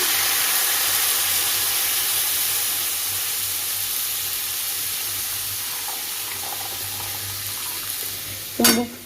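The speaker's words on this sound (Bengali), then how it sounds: "আমি সমানে এটাকে নেড়ে ভাজছি।" Mustard paste and water being stirred and fried in a pan in a home kitchen, a steady broadband sizzle and hiss running throughout with faint scraping, ending in a brief louder clatter near the end.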